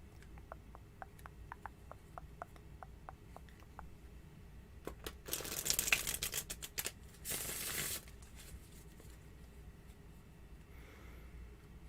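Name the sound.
cards being shuffled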